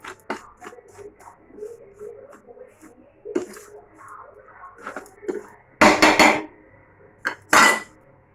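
Biscuit crumbs and cornflour being stirred together in a bowl: soft scraping and light clinks of a utensil, with two sharper, louder scraping bursts toward the end, and no talking.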